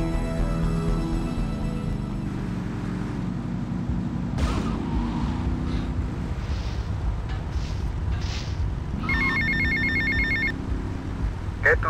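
Payphone ringing at an airport terminal in the video game GTA: Vice City on PC, repeated electronic ring bursts over game music and ambience, with a character speaking.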